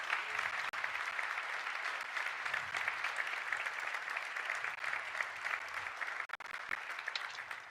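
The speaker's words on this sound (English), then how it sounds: "A final round of applause to recognize the good work done this morning." Sustained audience applause at a morning session of a world event, a steady dense wash of clapping from a sizeable crowd that holds evenly throughout, with no voices over it.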